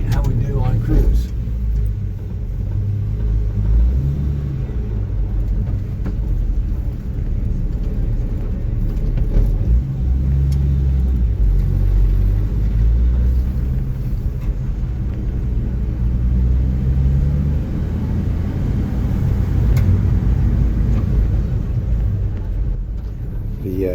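Carbureted engine of a 1965 Chevy C10 pickup droning steadily while cruising, a continuous low in-cab rumble with road noise throughout.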